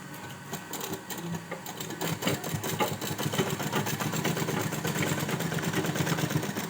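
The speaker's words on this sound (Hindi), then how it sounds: "फिर अंदर की साइड कपड़े को फोल्ड करते जाओ और सिलाई करते जाओ" Sewing machine stitching folded fabric for a baby girl's dress top, a fast steady mechanical rattle that starts lighter and then runs continuously, close and clear with no talk.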